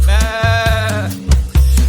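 Sheep bleating close and loud, a wavering, drawn-out bleat followed by shorter broken calls, heard on their own with no talking.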